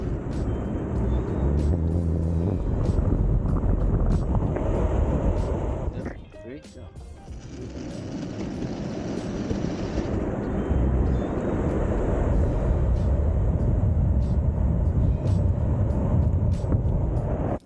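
Electric skateboard, a VOKBOARD, accelerating under a rider with a steady loud rumble of wheels and wind, briefly dipping midway before building again.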